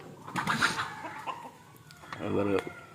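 A country chicken kept inside a coop clucks in short bursts close by, with another bird call near the end, while people talk over much of it.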